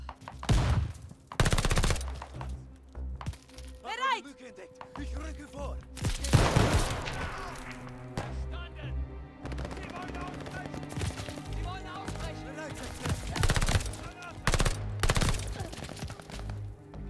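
Repeated bursts of gunfire in the World War II shooter Call of Duty Vanguard, sharp cracks and rapid volleys spaced across the scene, loud and close, with a voice occasionally heard over the game sound.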